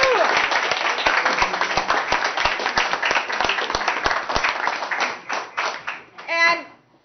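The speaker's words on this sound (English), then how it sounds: "Give yourselves a round of applause." Campaign volunteers at a post-election party break into loud, dense applause that fills the room, with a few sharp individual claps standing out and voices mixed in. The clapping thins toward the end as chatter rises.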